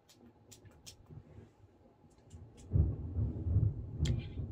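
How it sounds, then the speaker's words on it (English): Thunder rolls outside during a storm: a low, rumbling swell rises about halfway through and holds, heavy and deep, after a quieter stretch with faint scattered sounds. "it's thundering outside"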